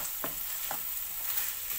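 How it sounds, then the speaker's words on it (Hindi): Vegetables frying in a pan with sauces, dried herbs and red chilli for pizza pav, a soft steady sizzle with a few light stirring scrapes, fairly quiet and without talk. "अब सब्जियों को 2 से 3 मिनट भूनेंगे"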